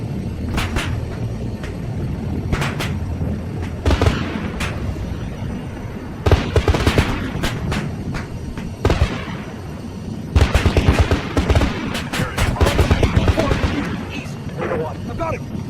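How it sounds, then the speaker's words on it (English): Explosions and gunfire from a helicopter battle crack and boom loudly, with sharp repeated blasts in dense clusters over a rumbling background and a voice talking throughout. "Explosion after explosion shakes the Russian sky."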